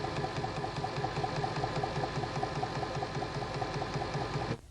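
A 1990 Janome Nouveau sewing machine runs steadily while stitching a folded fabric edge against the guide, a close, even mechanical whir with a rapid needle rhythm that stops abruptly at the end.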